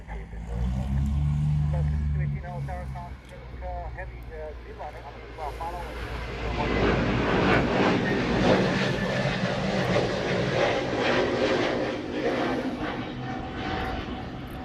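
A Hawaiian Airlines Airbus A321 heads toward Maui, its engine roar building and holding steady overhead at moderate distance while people talk nearby.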